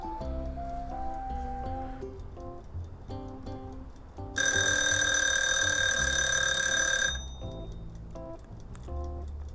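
A bright, rapid electronic ringing alarm sounds for about three seconds over a softer background of ticking and tones.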